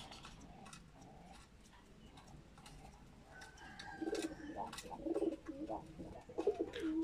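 Kaldam breed pigeon cooing in a series of soft, low coos that grow louder toward the end, with faint background bird calls and no talking.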